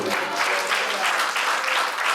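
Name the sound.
congregation clapping hands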